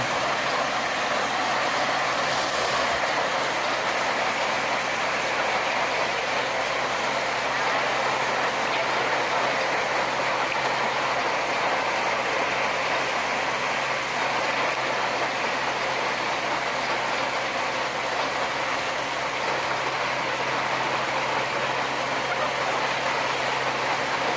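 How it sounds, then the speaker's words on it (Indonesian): The oldest sugar-mill locomotive of PG Kedawung runs through cane fields, a steady rumbling engine drone heard throughout at moderate volume with no talk. "Dan sebentar lagi lokomotif akan melewati jembatan kecil teman-teman."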